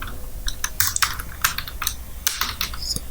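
Close, crisp clicking on a computer keyboard, with irregular bursts of keystrokes and short pauses between them.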